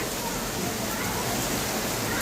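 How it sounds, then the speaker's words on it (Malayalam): Heavy rain pours steadily outdoors beside a home garden, a dense unbroken hiss of drops on surfaces that stays loud and even throughout. "നല്ല മഴ വന്നു"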